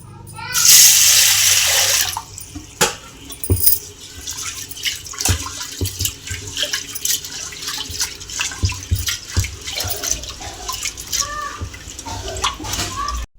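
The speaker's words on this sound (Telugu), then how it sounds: "పప్పును ఇప్పుడు కుక్కర్లో వేసుకొని ఒకసారి వాష్ చేసుకోవాలండి" Water splashes and swishes as lentils are rinsed in a pressure cooker, with a louder pour at the start followed by intermittent clinks and sloshing.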